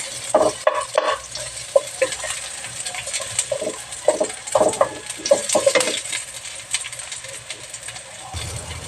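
Onion fries in a pan with a soft sizzle under repeated scraping and clinking stirs from a utensil against the pan, close up, with no voices.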